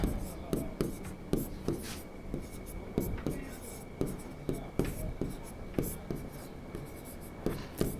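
Chalk or pen strokes from a teacher writing notes during a Class 10 Hindi-medium science lesson on metals and non-metals, a steady series of short scratchy taps and strokes close by, with soft murmuring in the background.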